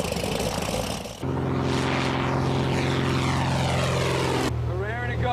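Loud, steady engine and propeller drone from a skydiving plane climbing at about 1,500 feet over New Orleans, filling the cabin without a break.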